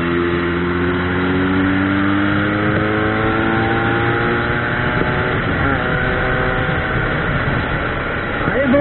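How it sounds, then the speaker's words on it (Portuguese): A Yamaha XJ6 motorcycle with a sport exhaust accelerates near a beach, its engine note climbing steadily through the revs in a loud, continuous buzzing roar. "Quanto mais ela acelera, mais barulho ela faz, mais ela bebe."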